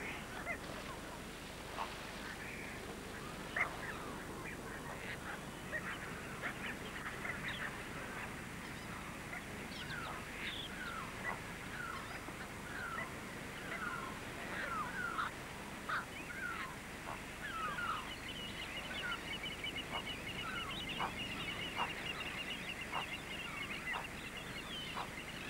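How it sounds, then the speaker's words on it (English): Water birds resting on cacti where desert meets ocean call repeatedly, with honking and quacking notes scattered over a steady background wash, moderately distant and continuous. "the spectacle of water birds making themselves comfortable on cacti"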